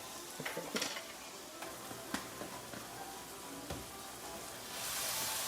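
Onion and cloves frying in a pan as they're stirred, a quiet sizzle with a few scrapes and taps from the utensil, then the hiss swelling louder near the end.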